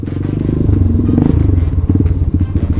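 A Falat 200 CRF-style motorcycle under way, its engine thrumming with a loud, close, pulsing low rumble and rattling vibration throughout the short stretch.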